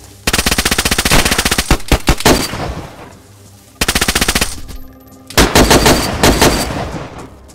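Automatic gunfire in the survival video game DayZ crackles in three loud, rapid bursts separated by short pauses, with some single shots between them.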